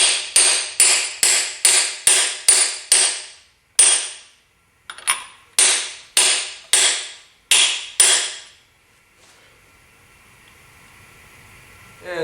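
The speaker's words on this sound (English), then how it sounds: "these do collapse when you are hammering them in." A hammer drives frost plugs into a 5.9L Magnum V8 engine block through a socket. Sharp metallic strikes land in quick, even runs of about six, then two single strikes, then four more, before the sound fades to a faint hum.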